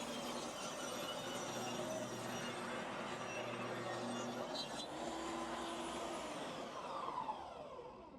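Table saw running through a rip cut with the workpiece pushed along by a Micro Jig Gripper, a steady loud mechanical whine and hum from the blade, with a slight shift as the cut finishes and the saw winds down.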